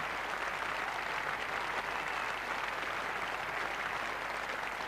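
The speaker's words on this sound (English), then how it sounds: "Getting a great reception here from what's just about a full house now." A near-capacity crowd at the Oval cricket ground during a 1987 Pakistan v England Test match applauds continuously, a dense, even wash of clapping with no pauses.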